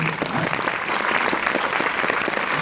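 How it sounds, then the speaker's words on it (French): An audience claps steadily at a film premiere, dense and even applause filling the room from start to finish, with faint voices underneath. "on peut l'applaudir, oui, en effet."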